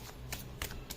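Tarot cards are shuffled and drawn in a brief, quiet rustle of soft riffling flicks, close by with no talk.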